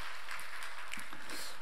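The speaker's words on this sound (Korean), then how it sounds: "우리 찬양대 수고를 하셨는데 우리 다시 한번 우리 격려의 박수 한번 하도록" A congregation at a Sunday service applauds to encourage the choir: a brief, dense wash of many hands clapping at once, steady throughout.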